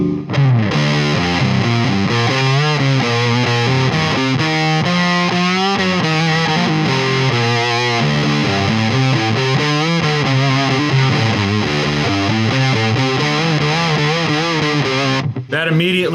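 Electric guitar played through a Fuzz Face pedal fitted with a 6.8 capacitor, a thick distorted tone with sustained chords and busy riffing, loud and continuous, cutting off briefly near the end.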